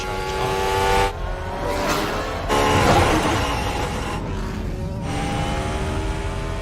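A Formula 1 race car engine fires up and runs loud and close, with a steady high whine of harmonics that swells and dips in pitch across several seconds.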